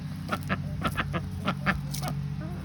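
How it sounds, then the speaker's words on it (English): A duck quacks in a quick, irregular series of nasal calls, close by, over a steady low background hum. "I don't know what that duck is saying there"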